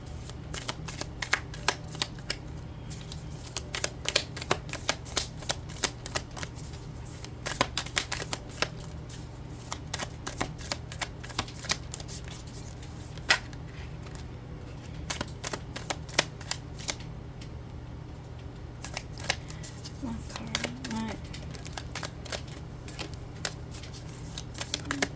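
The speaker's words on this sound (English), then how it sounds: "Every time I shuffle for pile number one" Tarot cards being shuffled by hand in a long continuous run of crisp riffling clicks and flutters, close and steady with brief pauses, no talking over it.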